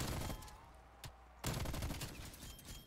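Shooting at zombies in Call of Duty Cold War comes as rapid, dense bursts of shots, then a brief lull broken by a single sharp crack before another sustained volley resumes, all fairly quiet overall.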